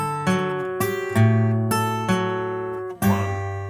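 Acoustic guitar plays two bars of Nine Pound Hammer, several strummed and picked chords with alternating bass notes, close and clear, with no talking.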